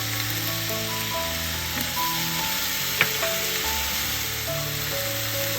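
Choy sum and oyster mushrooms stir-fry in a wok with a steady soft sizzle, plus a single sharp tap of a utensil at the midpoint, while gentle background music plays.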